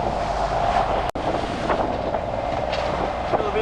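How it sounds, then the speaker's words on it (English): Steady wind buffets a sailing boat motor-sailing against the current, a continuous loud rushing roar with gusts and a brief dropout, no talk. "A little bit windy out here."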